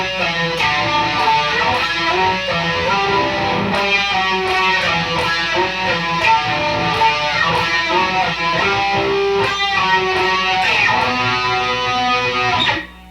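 A loud, close electric guitar runs through a full solo phrase at speed, a steady stream of sustained, overdriven picked notes and bends lasting about thirteen seconds with no talking.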